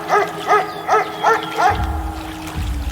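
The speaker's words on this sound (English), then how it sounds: "Playing dog sounds." A dog barks five times in an even, quick rhythm, each bark clear and moderately close, followed by a low rumbling noise after the barking stops.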